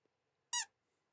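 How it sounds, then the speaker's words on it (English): A squeaky toy gives one short, sharp high squeak in near silence. "I get to keep my squeaky toy?"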